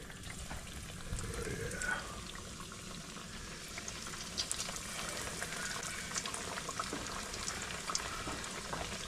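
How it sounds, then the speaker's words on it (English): Chicken cutlets sizzle and crackle steadily in hot oil, a continuous fizzing hiss with occasional pops. "we're gonna start frying our chicken cutlets here"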